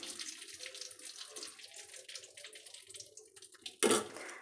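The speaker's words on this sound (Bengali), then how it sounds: "আর এই যে মশলাটা একটু জল দিয়ে একটু গুলে নিচ্ছি।" Water splashes from a tap into spices being mixed for a home-cooked chickpea and potato dish, a faint running trickle that ends in a brief louder gush.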